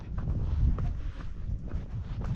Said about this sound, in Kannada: ಈಗಲೇ ತಂಪು ಗಾಳಿ ಬರ್ತಿರೋದು